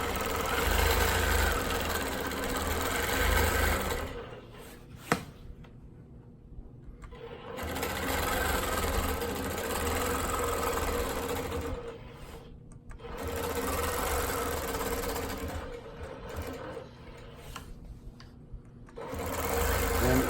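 A longarm quilting machine stitching continuous diagonal crosshatching with ruler work, its loud steady mechanical whir running in long bursts separated by short pauses, close up and without talk.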